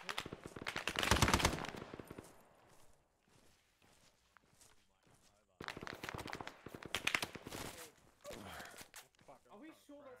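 Automatic machine gun fire in the military shooter Arma 3, rapid bursts of shots in two main clusters with quieter gaps between, with voices talking over the gunfire.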